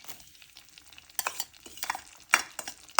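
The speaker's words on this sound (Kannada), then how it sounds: "ಈಗ ಫ್ರೈ ಮಾಡ್ಕೊಳ್ಳೋಣ ಬೆಳ್ಳುಳ್ಳಿನ" Garlic fries in a pan of butter and a spoon of oil for Italian pasta, heard as a quiet background sizzle broken by sharp, irregular spoon scrapes and clicks, close up and without speech.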